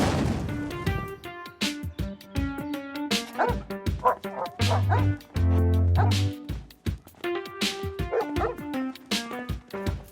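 A dog barks and whimpers repeatedly against a music background, with yips and short bursts spread through the passage and a loud sustained low tone partway through.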